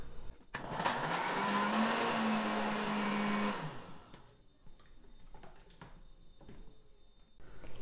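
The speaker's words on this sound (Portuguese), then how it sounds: "Vamos então colocar todos esses ingredientes no liquidificador. E vamos bater." A kitchen blender purees ingredients for a baby food cream, a loud whirring motor running for about three seconds before cutting off, followed by quiet clinks and rustles.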